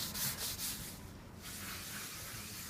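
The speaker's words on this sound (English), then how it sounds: "Jamie is rubbing this grey colour onto raw oak" Grey colour worked into raw oak timber by hand produces a continuous dry scrubbing rasp, strongest in a few quick strokes at first, then settling into a quieter, steady rub.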